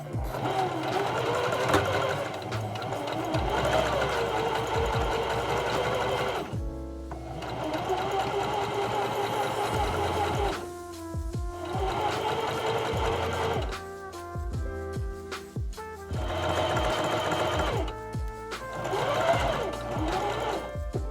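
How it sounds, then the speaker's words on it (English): A sewing machine stitching a seam on a 1960s-style jumper dress mock-up, running in several rapid mechanical bursts separated by short pauses, close and fairly quiet. "I will sew it all the way down."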